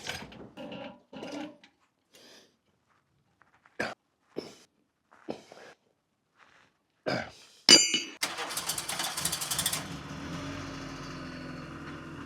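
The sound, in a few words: car driving after brake repair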